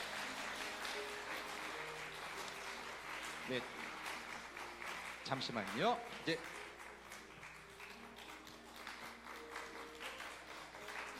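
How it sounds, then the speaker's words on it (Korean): Church congregation clapping after a child's baptism at a Korean Holiness church service, a steady wash of applause across the whole stretch while someone speaks briefly over it. "박수해 주십시오."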